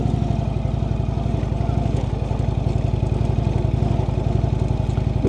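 Indian motorcycle climbing uphill, a loud, steady, close engine drone with a fast even pulse and mechanical clatter throughout.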